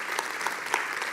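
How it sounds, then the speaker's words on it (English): Brief burst of audience applause at a built-environment conference, a steady dense patter of many hands clapping with a few sharper claps standing out, moderately distant. "Let's give them a round of applause."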